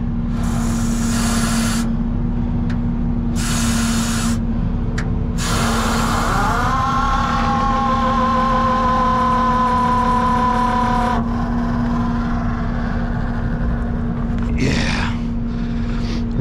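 A diesel yard truck, or yard dog, idles with a steady hum while its air line builds pressure, and loud bursts of hissing air and rising whistling tones come and go over the engine.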